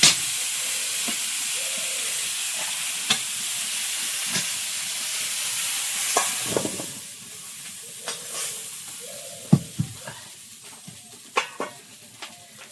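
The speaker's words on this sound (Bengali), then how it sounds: "অল্প একটু হলুদ আলু বেগুনটা একটু ভেজে নিলাম" Diced potatoes and eggplant seasoned with salt and a little turmeric fry in a pan, giving a steady close sizzle and hiss broken by scattered clicks and stirring knocks, with no talk.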